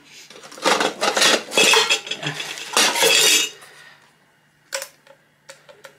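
Metal camping cook set pots and a pan clatter and clink as they are handled, bursts of rattling contact followed by a few sparse knocks near the end, close and loud with no talk.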